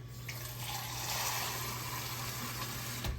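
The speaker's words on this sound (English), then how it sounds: "I'm gonna add a little bit more liquid to this." Liquid pours steadily into a pot of simmering purple hull and cream peas with pork jowls, a soft continuous watery rush lasting a few seconds before a brief clatter at the end.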